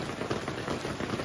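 Heavy rain drums steadily on a shelter set up for a village feast, a dense, even patter close by with no voices.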